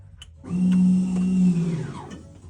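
Tech-53 electronic rear parking brake actuator on a Mk1 car, switched from a dash switch: a steady motorized whine runs for about a second and a half, then winds down, close and fairly loud with no talk.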